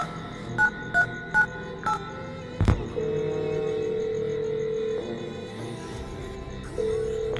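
Several short mobile phone dialing beeps in a row, a sharp click, then a steady ringing tone that cuts in and out, with faint background noise.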